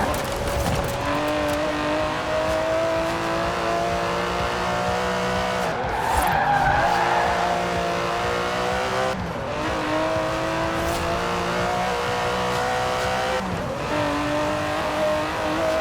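Aston Martin DB11 with a 5.2-litre twin-turbo V12 in the Forza Horizon 4 racing game, roaring steadily at high revs with tyres skidding and squealing through several shifts and corners, loud and continuous throughout.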